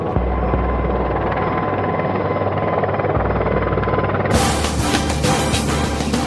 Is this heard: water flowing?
no